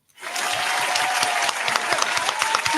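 A small studio audience applauds a guest on a talk show, steady close clapping that starts abruptly and holds at an even level, with a faint sustained tone underneath.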